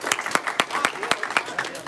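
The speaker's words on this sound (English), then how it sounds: "Let's clap for him anyways." An audience claps in a loose, uneven rhythm, individual sharp claps standing out near the microphone, with a few stray voices underneath.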